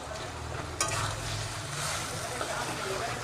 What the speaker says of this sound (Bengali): আমচুর আর আমুদে মাছ একসঙ্গে ভেজে নিচ্ছি